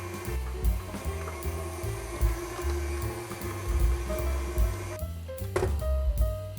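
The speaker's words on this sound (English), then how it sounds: "I'm just going to blend that together until it is nice and light and fluffy" A mixer blends cookie dough ingredients in a clear bowl with a steady, close motor hum and churning, the tone shifting slightly near the end, with no voices.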